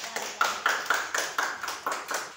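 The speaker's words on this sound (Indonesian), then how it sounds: "Kita kasih tepuk tangan dulu untuk yang bertanya" A handful of sharp, regular claps at a classroom discussion, about ten evenly spaced beats close by, each ringing briefly in a small room.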